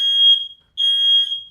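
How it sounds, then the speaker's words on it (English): A home smoke alarm going off as food burns on the stove: two loud, piercing electronic beeps, each lasting roughly half a second, separated by a short gap, with no talking. "And there goes my alarm system."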